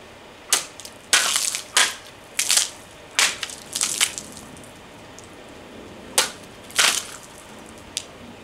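Sword strikes slicing through plastic bottles in a shashka versus katana cutting test, diagonal and horizontal cuts; about ten sharp, separate whooshing slashes and crunches at irregular intervals over a quiet background.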